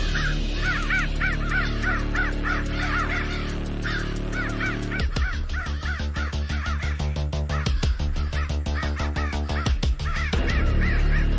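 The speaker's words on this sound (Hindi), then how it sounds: "कौवा बहुत मंगा है।" A crow caws in a forest, sending out repeated harsh calls in steady bursts that stand out loud and close over a constant background hum.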